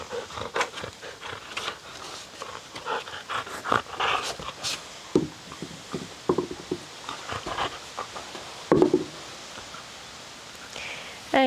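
A dog pants in rapid, uneven bursts close by, with soft patters and small shuffling noises between breaths during a home yoga session; no one speaks.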